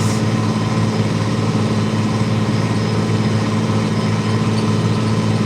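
The diesel engine of a 3688 tractor pulling a 1411 NH discbine while cutting hay runs at a steady, heavy drone, close and continuous with no pauses.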